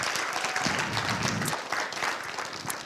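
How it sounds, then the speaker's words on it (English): An indoor church audience claps for a testimony speaker, a dense, steady round of applause filling the room for a few seconds with no speech over it. "I just want you guys to give them a round of applause."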